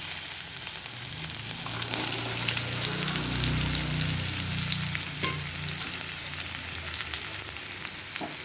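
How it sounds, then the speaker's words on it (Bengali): Watermelon rind pieces fry in hot oil with bay leaf and nigella seeds, giving a loud, steady sizzle and crackle that swells briefly as they are stirred. "দিয়ে সুন্দর করে একটু ভাজা ভাজা করে নেব"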